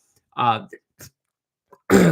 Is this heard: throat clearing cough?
yes